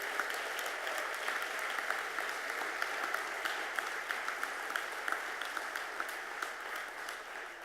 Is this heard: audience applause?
yes